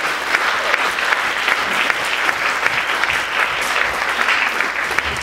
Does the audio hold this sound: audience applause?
yes